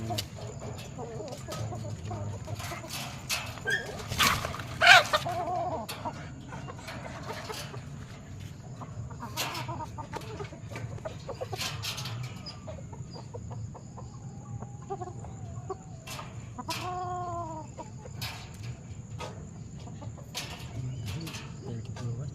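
Hens cluck intermittently in a farmyard where eggs are gathered for incubation, with soft chicken calls and one louder squawk over a low background hum and faint distant voices.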